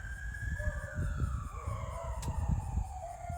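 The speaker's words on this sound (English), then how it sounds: "sorry, emergency vehicles going past" An emergency vehicle siren wails as it passes by outside, rising and falling in pitch over the low rumble of traffic, with no speech.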